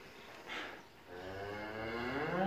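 Cattle in a steer barn give a drawn-out, fairly close moo that swells through the second half, preceded by a brief breathy snort, with no talk.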